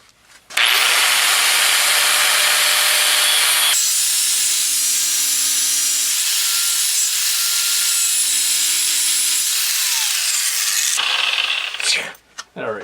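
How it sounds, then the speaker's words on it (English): A cutoff wheel grinds through a part from a Craftsman 24-inch snowblower clamped in a vise. A loud, continuous high-pitched whine runs for about ten seconds, changing pitch as the wheel bites, then stops with some clattering. "I'm going to use the wheel of death to cut it off."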